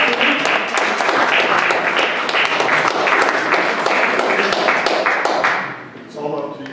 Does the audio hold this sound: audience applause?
yes